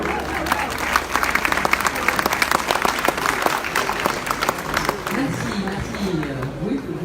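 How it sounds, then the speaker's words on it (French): An audience applauds at the opening of the Hestiv'Oc 2018 festival in Pau, with dense, continuous clapping carrying on beneath a voice speaking over a loudspeaker. "On peut applaudir, oui, oui."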